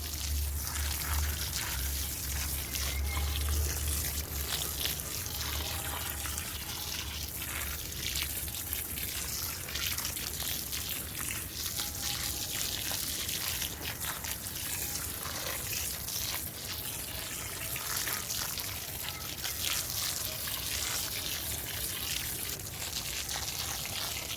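Water is poured onto a potted rose plant in a patti garden, a steady broadband splash and trickle running continuously at close range with no talking.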